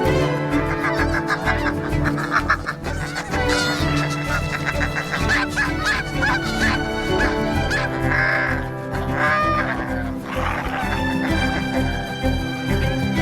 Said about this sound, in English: The geese will risk their lives to protect their eggs.